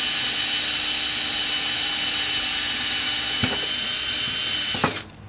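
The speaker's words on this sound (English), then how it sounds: "what we use is a 3/16 inch bit, and we drill through" A power drill with a 3/16 inch bit bores a pilot hole through the centre of a piece of wood for a concrete countertop build: a steady high whine runs several seconds, with two brief bumps near the end before the motor winds down.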